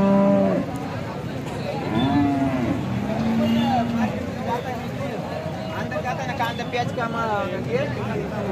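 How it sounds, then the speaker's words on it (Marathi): Farmers' cows at a busy cattle market low loudly in several long moos, one after another, while a crowd murmurs in the background. "आपण पाहू शकता ही शेतकरी बांधवांची गाई आहे"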